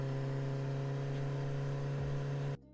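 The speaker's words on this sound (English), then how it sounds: "And then a third motorcycle sound effect." A motorcycle engine sound effect for a cyberpunk scene gives a steady, fairly faint humming drone with a strong even tone that cuts off abruptly after about two and a half seconds.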